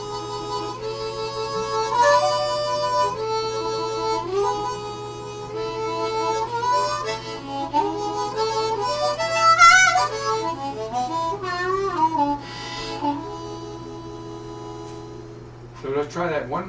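Harmonica played alone in a slow exercise, alternating drawn and blown notes across neighbouring holes with a wavering shake, steady and close for the whole stretch.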